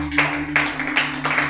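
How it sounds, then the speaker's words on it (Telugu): A church congregation claps loudly together in four rhythmic bursts of applause, with a steady low hum running underneath. "గట్టిగా చప్పట్లు కొడదాం."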